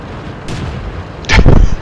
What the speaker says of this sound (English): Look at him shooting just behind me